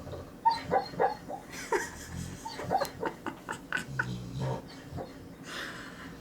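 Soft, broken growling and grumbling sounds from a dog growling in her sleep come in short, uneven bursts nearby, quiet and intermittent over several seconds.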